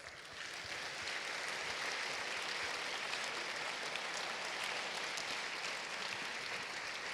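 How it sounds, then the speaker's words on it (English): A high school audience applauds veterans at a school assembly honoring a military hero, the clapping a steady, dense wash that holds evenly for several seconds, moderately distant. "Let's give a round of applause to recognize all the veterans in our audience."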